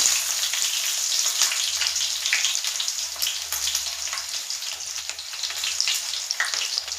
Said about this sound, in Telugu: నూనె పోసిన తర్వాత జీలకర్ర వేసుకొని